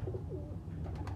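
Soft, low cooing from a Johnson (jonsra) pigeon in Faisalabad, close by, over a steady background murmur.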